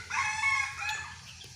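A local rooster crows once, a loud, drawn-out call that trails off over about a second and a half, heard close and alone.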